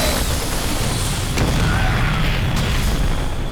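Heavy booming siege tank shots in StarCraft II, a loud rumbling barrage with sharp impacts around the middle and late part, dense battle noise throughout.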